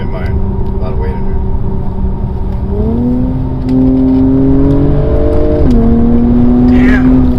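A 2021 Acura TLX Type S on the road gives off a deep, steady exhaust drone that rises and steps through shifts, close and loud, with people talking over it.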